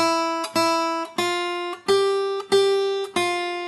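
A plucked guitar picking out a simple melody, six clear notes with steady spacing and ringing sustain, played alone and close.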